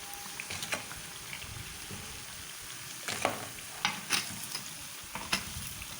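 Laddu pithian frying in hot oil, with a steady crackling sizzle broken by a few louder bubbling bursts and occasional spoon stirs, close and continuous.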